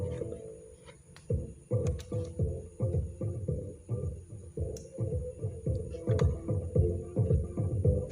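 Muffled, boomy bass thumps repeat in a steady rhythm, deep and fairly quiet, from a faulty Simbadda CST Z100 active subwoofer at full volume, with little treble.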